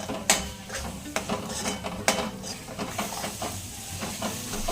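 Masala spices sauté with a few spoonfuls of water in a pan for chole, giving a steady steamy sizzle broken by repeated spoon scrapes and taps.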